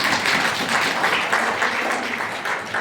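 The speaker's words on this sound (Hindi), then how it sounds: "और बढ़िया तालियां।" Sustained crowd applause at a school teachers' retirement farewell ceremony, dense and steady clapping from many hands throughout, with no pauses.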